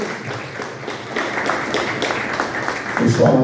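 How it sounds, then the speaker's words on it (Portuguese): A church congregation at a Sunday celebration service claps together in a dense, steady wash of applause that swells slightly toward the end, with voices mixed in. "Você pode aplaudir Jesus?"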